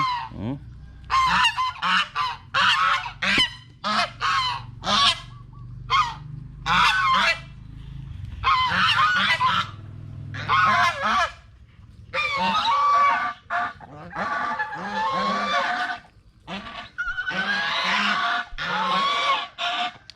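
Turkeys calling during courtship: a close, loud series of repeated honking and gobbling bursts in an irregular rhythm, with no talking.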